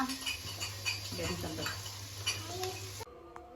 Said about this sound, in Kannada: ಈರುಳ್ಳಿ ಹಾಗೆ ಹಸಿಮೆಣ್ಸಿನ್ಕಾಯಿ ಕರಿಬೇವು ಎಲ್ಲ ಹಾಕಿ ಚೆನ್ನಾಗಿ ಫ್ರೈ ಮಾಡ್ಕೊಳ್ತಾ ಇದ್ದಾರೆ